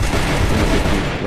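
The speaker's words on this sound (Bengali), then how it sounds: "লঞ্চার মারলাম।" Launcher fire in the Free Fire battle royale game, a dense, loud roar of explosive gunfire filling the whole moment with no pause.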